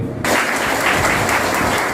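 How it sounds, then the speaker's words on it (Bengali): Audience clapping at a community event in Kaliyaganj where seven young men are honoured, a dense burst of applause breaking in after a brief quiet and holding steady, loud and close, with no talk over it. "তাদের প্রত্যেকের জন্য আপনারা একটা আশীর্বাদ এবং করতালি দিবেন"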